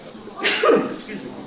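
A single short sneeze bursts out close by, sharp and abrupt, followed by a faint trailing breath.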